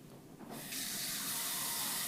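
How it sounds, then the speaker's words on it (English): A tap is turned on and water runs into a sink, building within a second from quiet to a steady, close hissing splash that continues without talk. "Turn on water."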